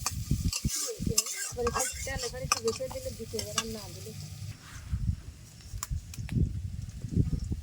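Egg frying in mustard oil in a village kitchen pan, a sizzle with scraping and stirring, while a voice speaks briefly near the start.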